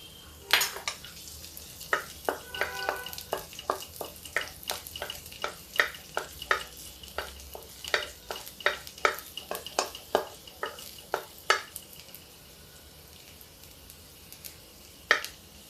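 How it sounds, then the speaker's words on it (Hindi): Cumin seeds and garlic hit hot oil in a kadhai, giving a steady close sizzle broken by sharp clinks and scrapes of a spoon stirring against the metal pan. "कढ़ाई गर्म हो गई है तो इसमें हम डाल देते हैं थोड़ा जीरा,"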